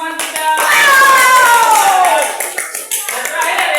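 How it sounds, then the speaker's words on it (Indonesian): An elementary school class claps for a classmate, a burst of close, dense applause from many hands, while a voice speaks over the clapping and it gradually thins out. "tepuk tangan buat teman kita"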